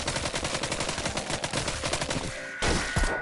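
Rapid gunfire bursts in the VR zombie game Arizona Sunshine, dense and loud, with a short break before one last heavy shot.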